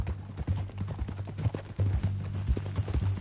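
Horse hooves clip-clop steadily at a walking pace in Red Dead Redemption 2, a western video game, with close, regular thuds over a quiet background.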